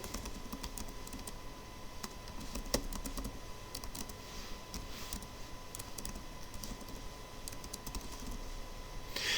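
Fingers type on a computer keyboard while code is entered, producing a continuous, fairly quiet patter of rapid key clicks with a few sharper taps, and no one speaking.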